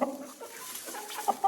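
Hens clucking together with a young cockerel in a backyard poultry flock, soft overlapping calls with a couple of sharper louder clucks near the end, no talk.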